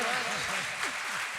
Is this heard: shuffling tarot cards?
no